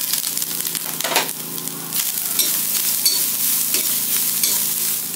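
Coconut, coriander, dried chilies, black pepper and cumin roast in a pan under a steady sizzle, with frequent close scraping as the mix is stirred, and no talking.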